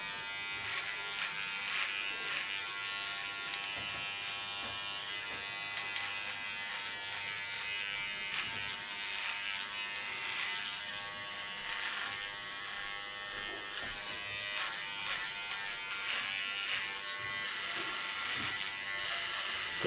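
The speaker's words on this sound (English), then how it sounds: "this clipper works very nice on this hair and also on short hairstyles" An electric hair clipper hums steadily while cutting short hair, a constant close buzz with small irregular clicks and variations as the blades move through the hair.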